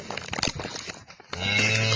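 Cattle on a farm in wet, windy weather, with a steady loud low moo rising after a stretch of rustling and handling noise, the call holding to the end.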